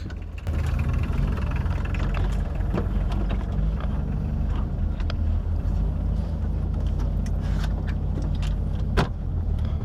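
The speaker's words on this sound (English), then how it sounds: "I've decided to drive along with the Citoën U23 truck" A Citroën U23 military truck, driven at a WW2 reenactment event on a military domain in Leopoldsburg, drones steadily as its engine runs throughout, loud and close, with rattles and clunks from the cab over the low rumble.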